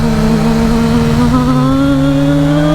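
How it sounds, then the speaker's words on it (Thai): A car engine revs loud and close as the brake is eased off and the throttle opened, its tone climbing smoothly and steadily in pitch without any break. "ค่อยๆปล่อยเบรกเติมคันเร่งออกไป"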